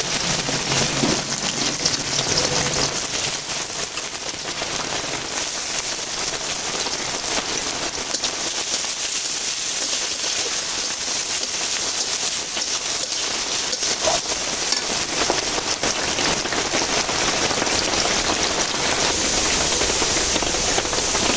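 A dense, continuous crackling hiss of onions frying fills the whole stretch, steady and loud, sizzling hard in hot oil.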